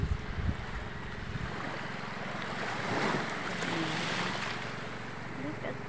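Sea surf washes onto a beach as a steady broad rush, louder at times, with wind buffeting the microphone and faint voices in the background.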